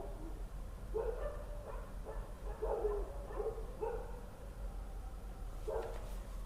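Several dogs bark together in a string of short, moderately distant woofs, spaced irregularly over several seconds with a pause before one last bark, under a steady low background hum.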